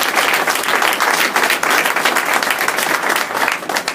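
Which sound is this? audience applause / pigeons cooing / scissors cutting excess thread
audience applause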